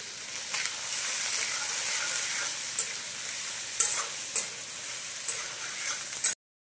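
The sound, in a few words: chopped onions frying in hot oil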